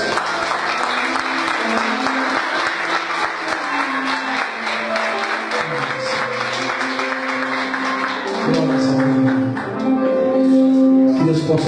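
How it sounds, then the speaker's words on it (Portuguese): A church congregation applauds continuously in a dense, sustained wash of clapping, while a voice or singing and sustained musical tones rise beneath it toward the end. "Aplauda ao Senhor em nome de Jesus."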